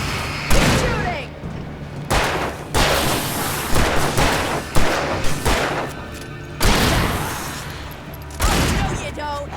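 Loud bursts of gunfire from the video game Alan Wake Remastered, several sharp shots and booming blasts in uneven clusters, with a voice speaking between them.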